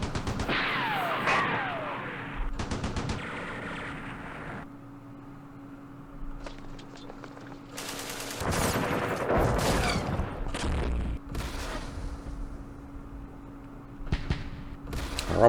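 Opportunity gunfire in the Campaign Series Middle East war game: scattered bursts of small-arms and heavier shots, some in quick clusters, spread over a steady background hum, with varying loudness and gaps between volleys.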